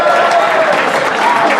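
Big applause rises from an audience below at a Carnival folk session in a Cologne beer hall, a steady dense wash of clapping and crowd noise throughout, with voices mixed in.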